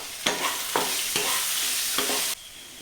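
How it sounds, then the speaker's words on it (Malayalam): Chopped onion with a little salt frying in a pan, a bright continuous sizzle with four rhythmic stirring scrapes, close and loud, then the sizzle drops abruptly near the end; nobody speaks. "അതിലേക്ക് ഈ സവാള അരിഞ്ഞതിടുക."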